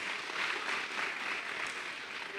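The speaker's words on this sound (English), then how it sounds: "Let's give her a very loud clap." A graduation ceremony audience applauds, a steady wash of many hands clapping together at moderate volume, with no voices on top.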